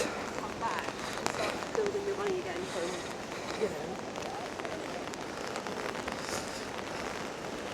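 Steady heavy rain patters and hisses across the whole stretch near Glasgow, Scotland, with faint voices murmuring underneath.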